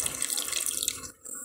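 Half a glass of water poured into a simmering chicken sauce, a close, bright, steady splashing pour that cuts off abruptly near the end.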